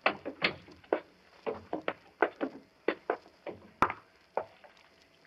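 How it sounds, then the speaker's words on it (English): Door being closed in an old-time radio mystery drama, a series of sharp wooden knocks, clicks and creaks in an uneven rhythm, close and moderately quiet, with a single louder snap near the end. "Close the door behind you"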